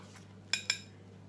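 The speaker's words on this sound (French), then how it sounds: "On va plonger la cuillère." A spoon plunges into a keto mini pavlova with light meringue, giving two quick, close clinks of metal against a dish in an otherwise quiet room.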